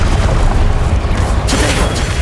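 Confringo fire spell explosions in Hogwarts Legacy, dense loud booming blasts and crashes packed into a short, continuous burst of combat noise.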